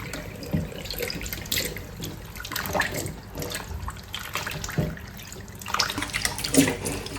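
Tap water runs steadily over dough being kneaded and washed to rinse out its gluten, with a continuous splashing flow and small wet slaps and squelches from the handled dough, with no talking.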